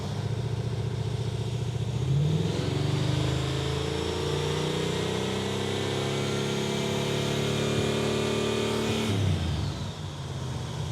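A tuned V8 engine in a Super Camaro, revving up and holding a steady high idle, then dropping back, loud and close with a continuous mechanical roar.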